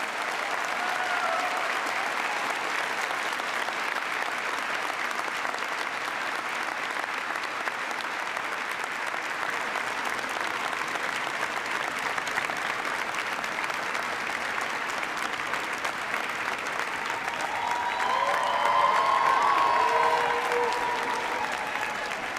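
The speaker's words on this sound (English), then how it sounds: "If we could give him another round of applause." Steady, sustained applause from a large graduation ceremony audience at the University of Virginia valedictory exercises, even and continuous throughout with a brief swell of cheering near the end.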